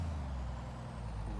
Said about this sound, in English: rowdy Jake brakes on this truck